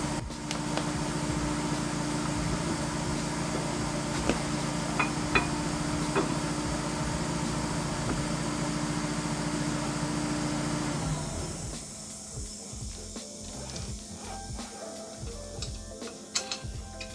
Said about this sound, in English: wait for the generator to turn off